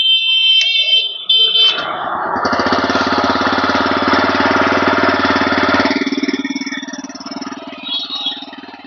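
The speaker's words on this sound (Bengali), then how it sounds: "যেহেতু সাইলেন্সার, আপনাদের এক্সস্ট সাউন্ডটা একবার শুনিয়ে দেবো।" A 2024 TVS Raider 125cc motorcycle engine starts, then its exhaust drones steadily at a close idle for several seconds before easing off. A sharp electronic beeping is heard near the start.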